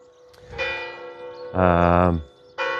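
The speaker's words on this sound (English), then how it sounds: "Oh, there's the 8 o'clock bell." A church bell rings out the 8 o'clock hour along the Camino Francés in La Rioja, near Logroño: three loud, close, resonant strokes with long ringing overtones, spaced about a second apart.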